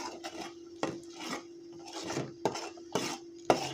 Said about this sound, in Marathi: आता हा मसाला मस्त भाजून घेऊया आपण